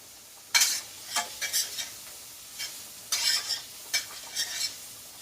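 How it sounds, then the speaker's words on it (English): Garlic frying in a pan while being stirred continuously, with scraping strokes and bursts of sizzle coming in irregular pulses, fairly quiet and close, with no voices. "Careful not to burn the garlic, so you're going to continuously stir this."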